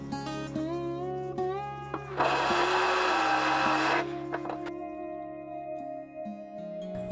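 A power drill bores a hole through aquarium glass held at a 45-degree angle, a steady motor whine rising into a harsh grinding hiss for about two seconds before easing back to the whine.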